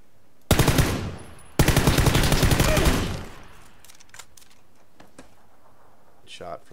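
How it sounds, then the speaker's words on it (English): Automatic gunfire in PUBG, two loud rapid bursts, the second longer and trailing into echo, then a few faint scattered shots in the distance. "Shot from somebody up there."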